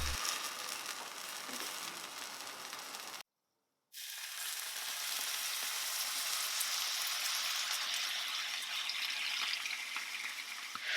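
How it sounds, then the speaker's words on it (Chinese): Oil sizzles steadily and loudly as glutinous rice flour cakes fry in a pan, with a brief moment of silence before the crackling resumes. "简单的煎一会儿，微微的上色就可以翻面了。"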